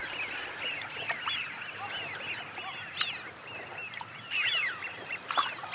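Eurasian wigeons calling on the open waters of Chilika lake, a flock of whistling calls from several birds overlapping at moderate distance over steady background hiss, no voices.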